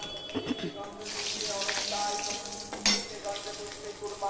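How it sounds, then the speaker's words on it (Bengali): Black cumin seeds tempering in hot oil for a spicy pabda fish curry, a soft steady sizzle and crackle close by with faint kitchen clatter. "এবার আমি দিয়ে দিচ্ছি 1 চামচের 4 ভাগের 1 ভাগ আমি দিয়ে দিলাম কালো জিরে ফোড়ন"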